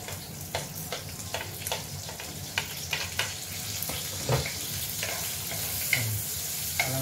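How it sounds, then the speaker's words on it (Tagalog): Onion and garlic sauté in a pan for a Filipino dish of ampalaya, pork and tofu, with steady sizzling frying and repeated scraping stir strokes close by. "So, ang sunod natin ilagay ay yung sibuyas at saka yung bawang."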